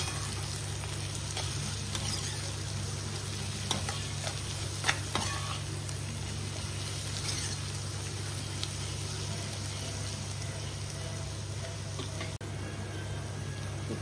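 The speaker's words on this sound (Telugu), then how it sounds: "ఒకసారి ఈ కారం అంతా కలిపేలాగా కలుపుకోవాలి." Sautéed onions with chili powder being stirred in a pan, a steady close sizzle of frying under repeated scraping and stirring strokes, with no talking.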